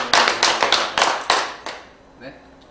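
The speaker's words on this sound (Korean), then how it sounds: "이런 저에게 응원의 박수를 부탁드립니다" Audience applause after a speaker's self-introduction at a talk event: a handful of sharp, distinct claps in loose rhythm that thin out and fade, with a couple of faint stray claps at the end.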